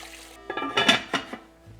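Water splashing and clattering into a pot of chicken bones for daikon chicken soup, a short burst of pouring with metallic pot clinks, close and alone.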